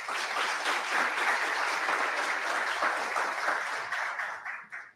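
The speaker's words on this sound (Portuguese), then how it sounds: "Salve de palmas." Audience applause at a business conference, a dense, even wash of many hands clapping for several seconds at moderate loudness before tapering off at the end, with no voices over it.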